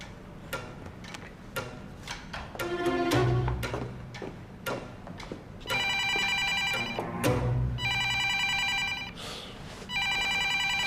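A telephone rings in an urban office drama, giving repeated loud electronic trilling bursts after a stretch of soft ticking and clicking, with no one talking.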